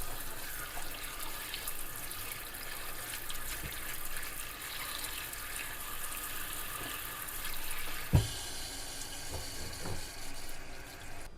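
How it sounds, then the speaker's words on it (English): Small wild yams washed in a sink under a running tap, giving a continuous gush of water with splashes and a clunk near the end, close by, and no voices. "So I'm gonna wash these up real quick"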